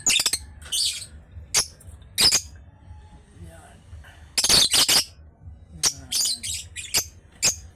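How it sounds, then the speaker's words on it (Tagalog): Sharp, loud squawks and shrill chirps from several pet African birds nearby, coming in irregular bursts, with a person talking quietly underneath. "Yan ang mga idol, yung mga ibon ko."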